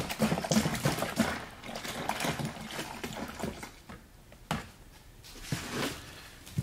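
A full gallon of skim milk poured into a large bucket, a quiet liquid splashing and gurgling stream that swells and ebbs in uneven surges.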